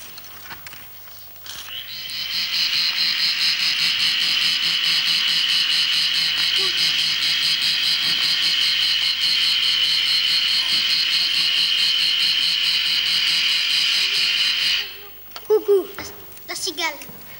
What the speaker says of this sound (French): C'est une cigale, Laurent.